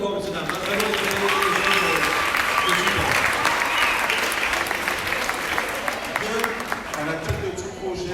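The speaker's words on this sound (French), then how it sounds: "On peut les applaudir encore" Sustained applause from an audience after a children's musical performance, dense continuous clapping filling the room for several seconds, with voices talking underneath.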